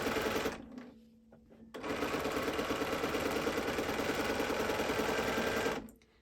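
Sewing machine stitching with a free motion foot, a steady rapid mechanical whir and needle patter, briefly pausing near the start, then running evenly for several seconds before stopping.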